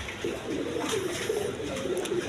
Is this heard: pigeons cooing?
yes